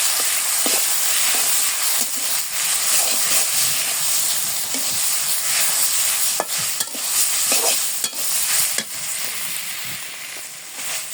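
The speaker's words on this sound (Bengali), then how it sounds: "শাকটি আমি দিয়ে দিই, নাড়া করে দিয়ে দিই।" Leafy greens frying in a pan sizzle loudly and continuously while a utensil stirs them, giving repeated close scraping strokes over the hiss; no one speaks.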